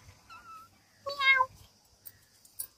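A cat gives a soft little chirp, then a single clear, rising meow close by, followed by a few faint scattered clicks in an otherwise quiet setting.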